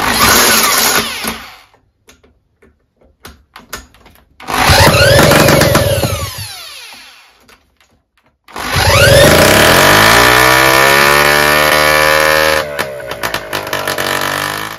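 A Solex 1700 moped's small two-stroke engine, spun by an electric drill, buzzes in two long bursts, revving up and winding down, with short sputters and quiet gaps between them.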